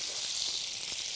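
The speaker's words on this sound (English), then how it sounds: "for each time you're frying, you put a cube of butter" Food frying in a pan with cubes of butter gives a steady, close hiss and crackle of sizzling fat, continuous and even throughout.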